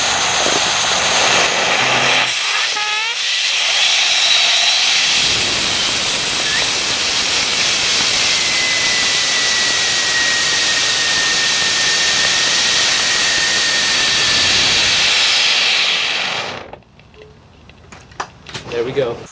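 A model rocket motor fires on a thrust test stand, giving a loud, steady roaring hiss that lasts about fourteen seconds before cutting off, followed by faint clatter.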